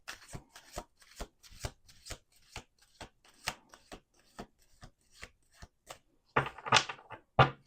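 Tarot cards shuffled by hand in a steady run of quick, crisp slaps and riffles, close and fairly quiet, with a denser, louder flurry near the end.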